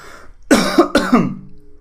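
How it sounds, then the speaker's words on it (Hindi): Two harsh, close coughs in quick succession, loud and alone with no talking. "सॉरी आज बार बार खांसी आ रही है"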